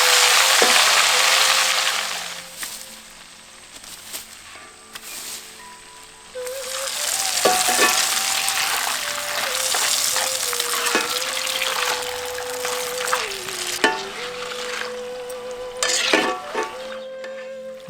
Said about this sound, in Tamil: உப்பு மஞ்சள்ல 1 அல்லது 2 தேக்கரண்டி அளவு சேர்த்து நல்லா பொரிக்க ஆரம்பிச்சிருவோம்